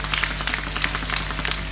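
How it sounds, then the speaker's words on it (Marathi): An audience at a Marathi kirtan memorial gathering claps loudly for a mother, a dense steady burst of many hands applauding from nearby with no talking. "त्या आईसाठी एकदा जोरदार टाळी वाजवा"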